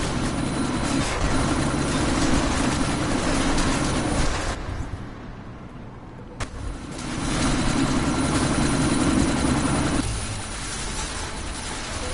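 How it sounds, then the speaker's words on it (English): Helicopter in the video game Deus Ex: Mankind Divided, readying for takeoff: a loud, steady rotor-and-engine roar that dips briefly midway, then swells back to full strength, with no voices. "That chopper's about to take off!"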